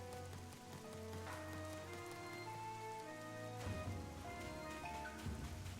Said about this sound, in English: Ooh, raining on the beach.